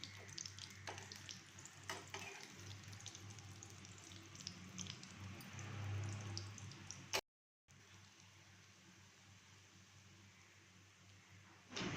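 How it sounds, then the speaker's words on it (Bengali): Onion fritters (peyaji) frying in hot oil in a home kitchen, a steady close sizzle with scattered crackles and pops and a brief break partway through. "আমার পেঁয়াজি ভাজাও হয়ে গিয়েছে।"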